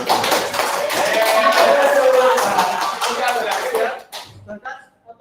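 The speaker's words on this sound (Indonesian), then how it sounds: "Tepuk tangan bagi kita semua." An audience at a university lecture claps loudly and steadily for several seconds, with some chuckles mixed in, before the clapping tapers off into a few scattered claps.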